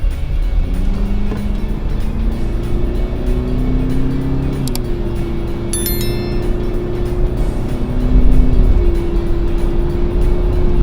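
A remapped Mitsubishi Pajero SUV pulls hard, its engine note climbing steadily through several gears with brief dips at each shift, loud and close, no talking.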